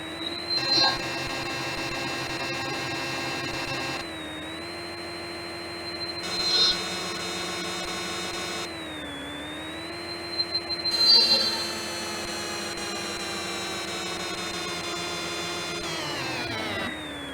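A CNC lathe runs a G32 threading program with a steady high mechanical whine and droning hum, pitch dipping and shifting between passes, punctuated by brief louder cutting bursts.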